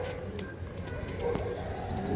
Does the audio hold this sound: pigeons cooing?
yes